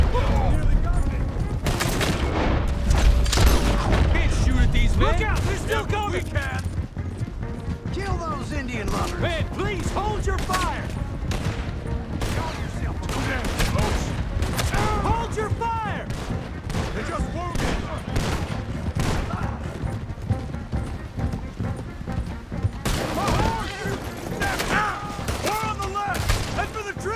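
Shootout in Red Dead Redemption 2, with dense rapid gunshots cracking over and over for the whole stretch, near and far, while shouting voices call out over the firing.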